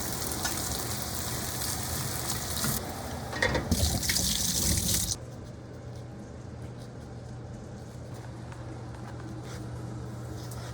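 Potatoes go into a pan of frying onions for a Cretan omelette: a loud, dense sizzle and crackle surges for about five seconds, then settles into a steadier, quieter frying hiss under a low hum.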